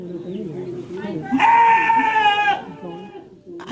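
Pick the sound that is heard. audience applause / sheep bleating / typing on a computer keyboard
sheep bleating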